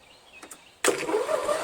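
Starter cranking a Briggs & Stratton 12 HP flathead engine on a Toro Wheel Horse 1238XL lawn tractor, a loud, steady whirring churn that kicks in suddenly after a quiet pause and runs on without catching.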